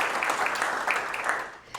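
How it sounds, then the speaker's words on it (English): At an awards ceremony, a seated audience gives a round of steady applause for the Diversity, Equity, and Inclusion Award finalists, a full, even wash of clapping with a few distinct hand slaps that fades near the end. "Let's give one more round of applause for our Diversity, Equity, and Inclusion Award finalists."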